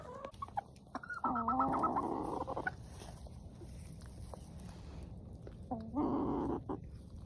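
Chickens clucking while eating, their close, uneven clucks and murmurs rising in bursts, loudest early and again near the end, with quieter pecking gaps between.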